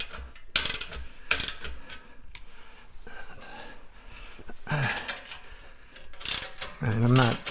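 Bolts on an Ultra Fuego UF-1186 home gym frame are tightened by hand, giving scattered ratcheting clicks and metallic clunks at close range, with a few sharp knocks and a brief vocal sound near the end.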